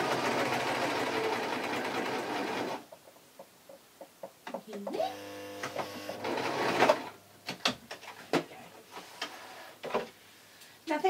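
Sewing machine stitching taffeta seams, a steady whirring buzz at first, then stops and short bursts of rapid ticking stitches with clicks and handling knocks, close and fairly quiet.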